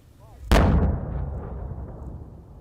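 Controlled detonation of unexploded bombs in Afghanistan, a single heavy blast with a sharp onset followed by a long rumbling decay, heard at a distance after a brief faint voice.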